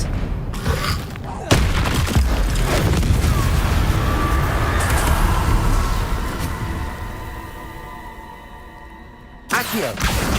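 A spell-casting blast in the wizarding video game Hogwarts Legacy: a sharp magical burst with a booming impact, then a long swelling whoosh and shimmering tone that fades, with a second burst near the end.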